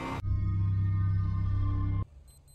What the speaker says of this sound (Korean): 이른 새벽 알람에 맞춰 눈을 뜬